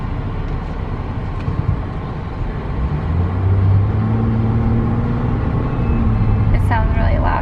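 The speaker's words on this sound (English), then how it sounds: "Sounds really loud trying to get started." A car engine cranks and strains to start, a loud uneven rumble that settles into a rising, steady drone, with people talking over it.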